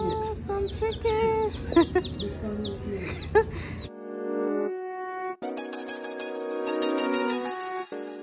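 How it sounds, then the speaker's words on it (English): Chickens cluck outdoors on St. Croix in a burst of short, choppy calls close by, then give way to a steadier tonal, music-like passage for the remainder. "Where you can find some chicken."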